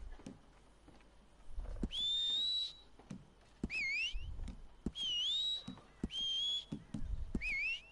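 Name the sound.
whistle in video game Red Dead Online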